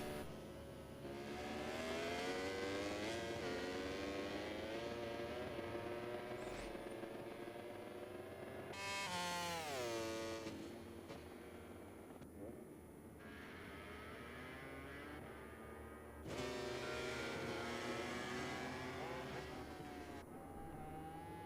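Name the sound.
race car engine revving in a sim racing game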